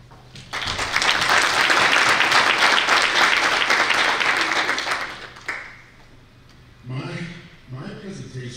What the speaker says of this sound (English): I should also request a round of applause for all of these forebears of ours